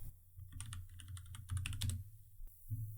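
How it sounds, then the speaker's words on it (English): Keys tapped at a steady, quick rhythm on a computer keyboard while a search word is entered in a design app, close and clear, with a low hum beneath and no talk. "So I'm going to type in skyline."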